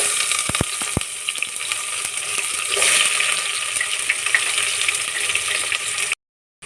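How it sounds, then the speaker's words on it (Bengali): Onions sizzle steadily in hot oil while being fried until reddish-brown with whole spices for chicken biryani, a dense, close crackling hiss with a few sharp clicks near the start and no voices. "পেঁয়াজটা একদম একটু লাল লাল করে ভেজে নেব।"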